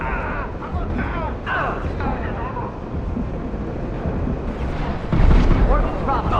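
Mass Effect 2 combat rumbles with heavy gunfire and explosions, a dense continuous roar that swells louder near the end, while voices call out over the din.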